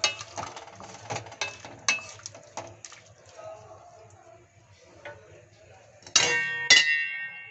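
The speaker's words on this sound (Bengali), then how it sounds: "ঢেকে দিচ্ছি, চুলার আঁচ মিডিয়াম হাই করে।" Scattered scrapes and taps from a cooking pan of capsicum and potato fade to near quiet, then a metal lid settles on with a loud ringing clang near the end.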